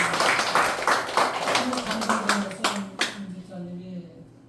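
A church congregation claps together during a Sunday worship service, a dense burst of applause that thins out and fades after a few seconds, with a voice speaking over it near the end.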